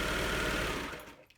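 A serger overlocking the seam of a fabric pillowcase whirs in a fast, steady mechanical rhythm, loud and close, then slows and winds down to a stop near the end.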